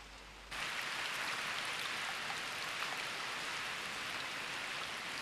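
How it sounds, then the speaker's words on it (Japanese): Steady rain falls in an anime scene, beginning abruptly after a brief pause and then holding as an even, dense hiss that stays constant and fairly close, with no voices over it. "雨か"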